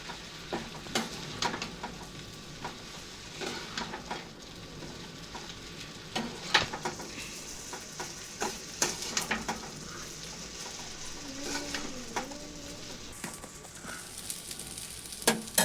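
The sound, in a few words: stirring leftover rice dish frying in pan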